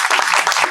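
Audience applause at an All India Mushaira poetry event in Uttar Pradesh, a brief dense burst of many hands clapping, loud and close.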